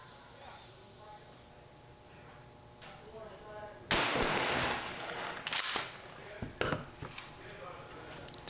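A 12-gauge less-lethal bean bag round fires and slams into a steel target, a sharp report with a smacking impact over quiet outdoor background, followed by fainter clicks and a second burst of noise.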